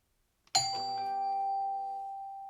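Doorbell camera chime puck ringing once after a faint click, a clear bright tone with a long fading ring-out, moderately loud and isolated.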